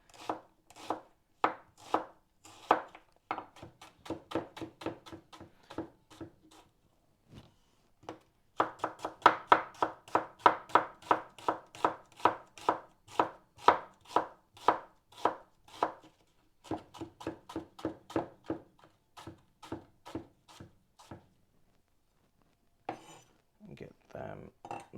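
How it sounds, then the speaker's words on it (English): A knife chops an onion into small pieces on a board, a fast run of sharp, close taps in bursts with short pauses, alone and fairly quiet. "I'm just going to cut my onion"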